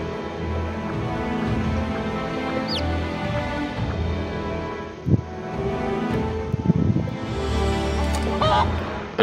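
Chickens in the video game Odin Cube cluck and honk repeatedly against steady background game music, the fowl calls close and intermittent.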